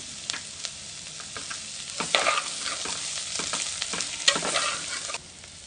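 Masala, rock salt and curry leaves stir-fried in a pan for a beans dal, a steady close sizzle broken by scraping stirring strokes that swell around the middle and then drop away near the end.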